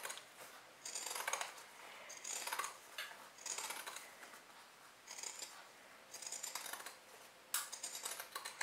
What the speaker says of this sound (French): Maintenant je vais enlever à l'aide de mes ciseaux cranteurs le surplus de tissu.